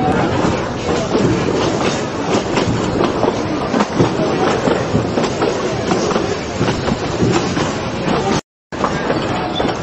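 A coal-fired steam train runs at the Durango and Silverton railfest, a loud, continuous rumble with rhythmic clickety-clack from the wheels, close by, with a brief dropout near the end.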